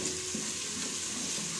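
Boiled chickpeas fry and sizzle in masala in a pan with a steady hiss, and a faint stir sounds once or twice, close up and without talking.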